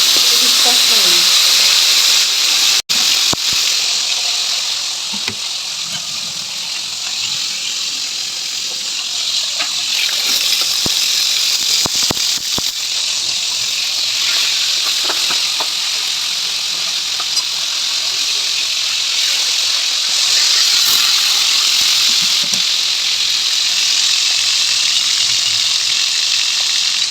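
Pieces of boal fish frying in hot oil, a steady loud hiss and sizzle with crackling spits that runs unbroken throughout.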